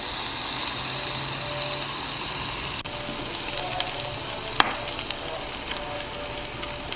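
Salmon sizzles in olive oil in a pan, a continuous bright crackling hiss held at moderate level, with a couple of sharp clicks from utensils partway through and no talking.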